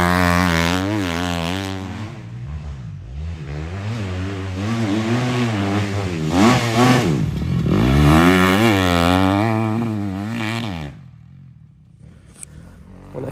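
A motocross motorcycle ridden on a difficult dirt track, its engine revving up and down through rising and falling pitch sweeps, loud and close, before cutting off near the end with a brief faint knock.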